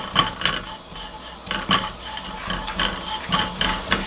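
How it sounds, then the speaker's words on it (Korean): Anchovies are stir-fried dry in a pan, their bubbling sizzle steady underneath while a utensil scrapes and stirs in regular bursts about once a second, close and clear. "멸치 바닥 부분이 조금 자글자글 끓거든요"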